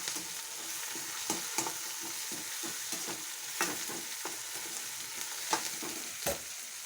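Tomatoes fry in hot oil with a steady close sizzle, punctuated by regular spoon strokes scraping the pan.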